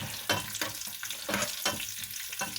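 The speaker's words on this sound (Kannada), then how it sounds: "ಈ ಥರ ಕರಿಬೇವಿನ ಸೊಪ್ಪನ್ನು ಸುರುಕ್ ಅಂತ ಸುರಿಯಿರಿ" Curry leaves go into hot oil with cumin and crackle in a loud, close sizzle. The fizz swells in quick, rhythmic bursts as the pan is stirred, with no voices.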